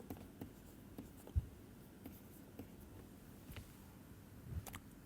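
Marker or chalk writing on a board during a physics lecture, soft scratchy strokes coming in short intermittent bursts at close range over quiet room tone.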